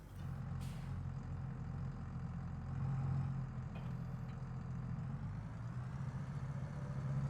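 A tractor engine in Farming Simulator 22, out logging, holds a steady low drone, with a brief swell in the middle and a faint hiss near the start.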